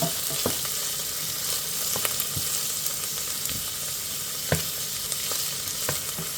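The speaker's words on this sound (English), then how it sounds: "we're going to sweat these down" Chopped vegetables for a chunky vegetable soup sweat in a hot pan with a steady, close sizzle, broken by occasional sharp scrapes and clicks of stirring, no voices.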